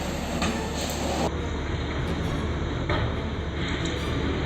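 A train runs along railway tracks where it struck a cow crossing the line; a steady, loud rumble of wheels and cars fills the whole stretch, with a sharp shift in tone partway through and brief clanks after.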